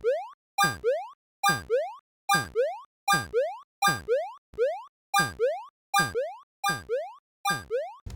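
Text animation effects in a simple AI-built mobile game, a run of about eleven identical springy boing-like chirps at a regular rhythm, each cut off by brief silence, with no talking.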